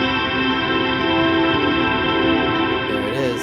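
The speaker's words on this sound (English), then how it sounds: "Let's listen to it like start to overload so you can remember the fun sounds that we hear, right?" A Strymon BigSkyMX reverb pedal overloads into a dense, sustained wash of layered tones with a warbling, building drone that holds steady before a brief wobble near the end.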